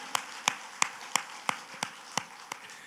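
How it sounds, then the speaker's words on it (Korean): Slow, even hand claps in a church, about eight sharp strikes spaced roughly a third of a second apart, fairly faint with no talking. "하나님께 박수를 한 거야"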